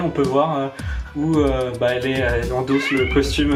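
A cat meows in drawn-out, wavering cries that run almost continuously beneath someone speaking French, loud and close.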